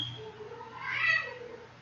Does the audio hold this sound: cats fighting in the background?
yes